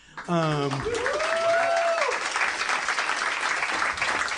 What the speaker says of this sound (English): I guess that's all I wanted was applause